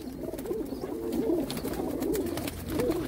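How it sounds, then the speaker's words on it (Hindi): Kasuri pigeon chicks from a home-bred lot give soft, repeated cooing calls, several rolling coos in a steady rhythm, close and moderately loud over a low background hum. "कसूरी कबूतरों के, हर एक मगरों के, टिंड वालों के बच्चे।"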